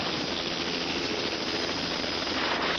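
A rescue helicopter hovering during a cliff rescue in Pacoima, its rotor and engine giving a steady, loud, unbroken roar throughout, with no voices.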